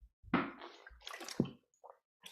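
Water poured into a glass for drinking, with short splashy bursts that come close and fairly loud, separated by brief quiet gaps and softer trickles toward the end.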